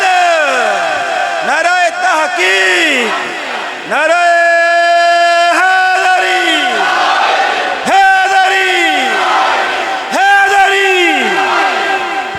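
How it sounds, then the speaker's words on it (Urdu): A large crowd at a Rabi ul Awwal religious gathering shouts a religious slogan in unison, several loud roaring calls in succession, answering a speaker's chant, with a strong, echoing amplified voice leading between responses. "علی دا نعرہ تے علی دے نعرے دا جواب اے"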